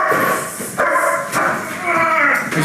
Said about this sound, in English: As you can see, the dog's located there really quickly. He's been barking.